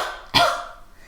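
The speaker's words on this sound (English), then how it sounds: "do a little cough" A single short cough made during a pelvic floor exercise, a sharp close burst followed by a brief fading tail in a quiet room.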